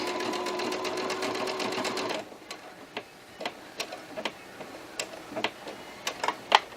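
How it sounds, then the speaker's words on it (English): A sewing machine stitches the lining of a hoodie in a steady, fast mechanical run of about two seconds, then stops, leaving a series of separate clicks and taps as the presser foot is handled. "so that my sewing machine will continue sewing"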